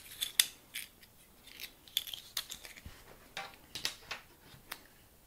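Scissors snip nylon beading thread in a run of short, crisp cuts, close and fairly quiet, with irregular gaps between them.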